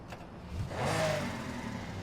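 A vintage Lamborghini, modernized with a turbo, revs in the racing game Need for Speed. Its engine swells from a faint idle into a steady mid-pitched roar lasting about a second and a half, with no talking over it.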